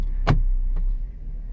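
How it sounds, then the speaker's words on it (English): Hyundai power side mirror motor tilting back up after the car is shifted out of reverse: a short, near whirring buzz around a third of a second, then a fainter second whir, over low idling engine hum. "as soon as I take it out of reverse, it goes back up"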